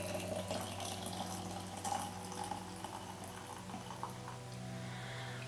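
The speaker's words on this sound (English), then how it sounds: "put the rest of the boiled water into this glass" Boiled water poured into a glass over herbs for an herbal tea infusion, a steady low trickle and splash that runs for several seconds without a break, faint and close, with no voices.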